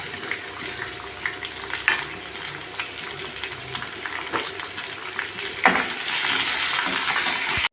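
Curry leaves crackle and sizzle in hot oil alongside cinnamon and cloves for a mutton stew, a steady close frying hiss with sharp pops and occasional spoon knocks that grows louder near the end.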